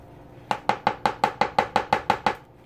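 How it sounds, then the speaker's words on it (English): An onion being chopped with a knife on a cutting board: about eleven crisp, evenly spaced chops in a quick steady rhythm, close and fairly loud, with no talking. "cut some more onion here"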